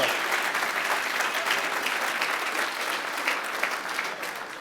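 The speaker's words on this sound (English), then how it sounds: "join me in a round of applause for Antonio, who is owning the stage." A large audience at an awards ceremony applauds in a dense, steady wash of clapping that holds at full strength for the whole stretch, with no voices standing out.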